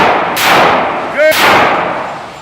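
Two close handgun reports snap out on a carry permit training range, separated by a short spoken call and followed by a fading echo.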